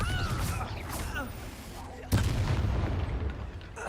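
A Confringo blasting spell in Hogwarts Legacy goes off with one sharp booming burst midway, preceded by other spell casting and surrounded by busy combat noise.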